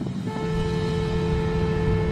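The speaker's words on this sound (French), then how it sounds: "Le ton du klaxon est constant, bien que la voiture soit en mouvement." A car horn sounds from a moving car, holding one steady, sustained tone throughout over low road and engine rumble.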